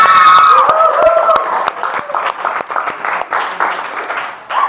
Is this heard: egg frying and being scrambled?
no